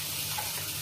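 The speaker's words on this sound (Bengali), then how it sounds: "এরপরে আমি বাটিতে জল নিচ্ছি" Water pours steadily into a bowl in a kitchen, a brief continuous splashing hiss at moderate volume with no talking.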